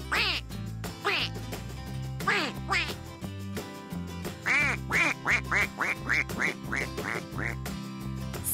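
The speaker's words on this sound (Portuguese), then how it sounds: "É melhor dar comida pra esses patos do que não fazer nada" Ducks being fed quack repeatedly nearby, scattered calls at first, then a quick regular run of quacks, loud and clear.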